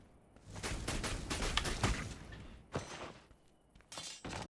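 Fireball and pyroblast spells striking knights in the video game Dungeonborne, a run of loud crackling, shattering impacts in quick succession, with a couple of sharp bursts after a short pause.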